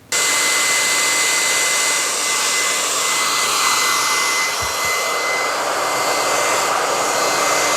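Hot air gun blowing on a motorcycle seat cover during refurbishing, a loud, steady broadband whoosh that switches on sharply and runs continuously, close to the microphone.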